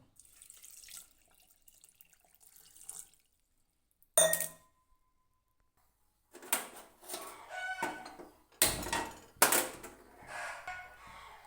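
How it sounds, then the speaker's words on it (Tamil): Water is poured into a pot of mutton curry in several separate splashing bursts, close and moderately loud, separated by short silences and a brief clatter. "அப்புறம் தண்ணி ஊற்றிக்கிறோம்."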